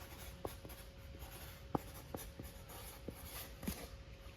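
Marker pen scratching across a paper template for a vehicle heater-line job, quiet intermittent squeaky strokes close up in a faintly humming room, no talking.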